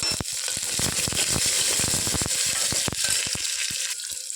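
Chopped onions frying in hot oil with cumin and dried red chillies, a bright continuous sizzle broken by rapid clicking scrapes and knocks of a ladle against the pan, close up with no voices.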